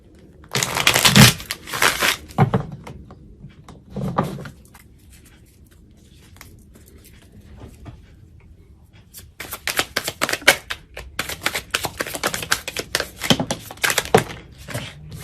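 Tarot cards being shuffled in several bursts of papery slapping and flicking, a couple of early rounds, a quieter pause, then a longer run of brisk shuffling.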